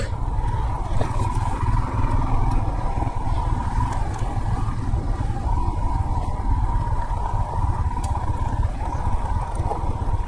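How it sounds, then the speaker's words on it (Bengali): A motorcycle ridden along a hill road gives a steady, loud engine drone with wind rush throughout, the note holding fairly even with no clear revs and no talk. "আরে বাইক তো bike, ADB bike made for স্যাডলিং"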